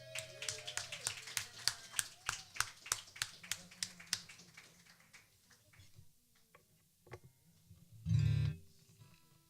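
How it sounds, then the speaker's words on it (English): A small concert audience at an acoustic night claps for several seconds in sparse, distinct hand claps that thin out and fade, with a brief louder burst near the end. "Can we give a round of applause for that?"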